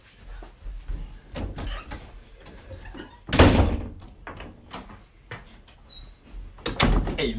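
A door swings open and shuts as someone comes through, giving a couple of loud thuds and squeaky creaks among softer shuffling, with a second firm knock near the end.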